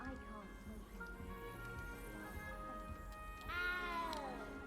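A cat meows in the video game Hogwarts Legacy, several drawn-out, wavering cries over a steady game-ambience bed, ending with one loud, close, rising-and-falling meow; voices murmur underneath.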